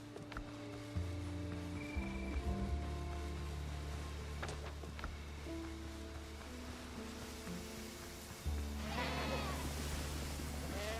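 A goat bleats in the survival game Windrose, a few short calls rising over a constant low in-game ambient hum, with a brief burst of wave-like noise near the end.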